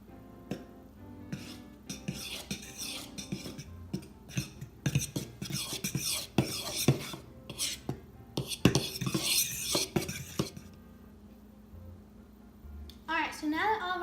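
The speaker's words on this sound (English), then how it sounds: "we're just going to sift it with a fork until it's an even" A fork scrapes and taps through flour and spices in a bowl, producing irregular clinks and gritty scratches up close, with a voice talking softly in between.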